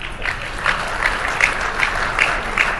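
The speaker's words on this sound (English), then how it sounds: "Clap it up, clap it up." An audience claps along at a live presentation in Ohio, with steady rhythmic handclaps about two per second over a continuous bed of applause.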